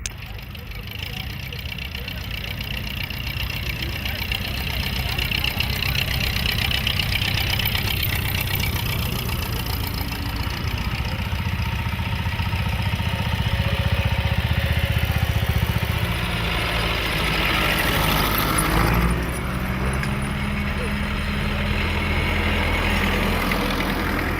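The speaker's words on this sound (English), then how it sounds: "it is the sound of the vintage engines that makes collectors' hearts beat faster" Vintage Massey Ferguson tractor engines idle at a gathering of the tractor community, a steady low rumbling chug that holds throughout, loud and close, with other engine noise around it.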